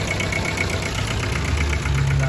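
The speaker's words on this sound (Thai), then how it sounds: "ตัวนี้เป็นเครื่อง e สูบสองสูบนะครับผม" A two-cylinder engine on a Thai farm truck (an e-taen with a wooden cargo bed) idles steadily with a low, knocking throb, close and continuous, with no voices.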